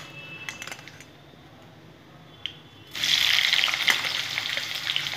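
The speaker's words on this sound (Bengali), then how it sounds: "এগুলো একটু ভাজা ভাজা করে নেব।" Washed bitter gourd and raw green banana hit hot oil with a sudden loud sizzle for ucche aloo chochori, a steady close frying hiss after a quieter start with a few kitchen clinks, no talk.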